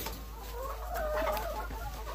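Chickens cluck on a farm on a winter storm day, a cluster of close, irregular murmuring clucks over a low background hum.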